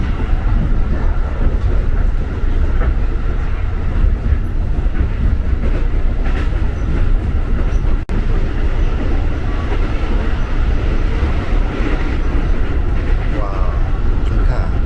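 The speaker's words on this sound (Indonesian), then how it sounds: "Stasiun Cawang menjelang sore udah lumayan ramai juga nih." A busy Cawang train station platform in late afternoon, with a steady rumble of rail traffic and train cars and a faint clickety-clack under continuous crowd murmur and distant voices.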